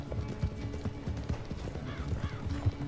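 Horse hooves clip-clop in steady rhythm in Red Dead Redemption 2 farm chores as John Marston, close and fairly loud, with a brief whinny-like tone over a busy game soundscape.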